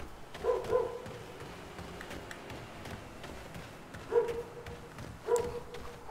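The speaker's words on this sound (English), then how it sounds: "dog's barking" A dog barks on a city street in the video game Mafia 3, faint bursts of two or three barks at the start, then two more single barks later over quiet background.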